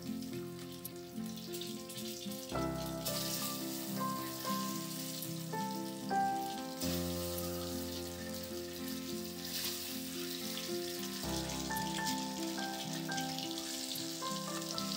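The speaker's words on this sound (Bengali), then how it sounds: "এবার তেলে দিয়ে হালকা ভেজে নিব" Turmeric-coated boiled eggs fry in hot oil, giving a steady, continuous sizzle that runs beneath background music throughout.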